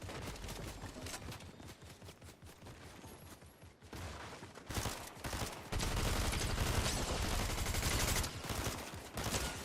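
Video game gunfire plays as dense, rapid bursts of shots, loud and near, with brief gaps between volleys and a short lull before heavier fire resumes.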